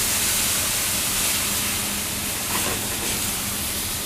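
Food sautés with white wine in a pan over a hot stove flame. A loud, steady, close sizzle hisses throughout.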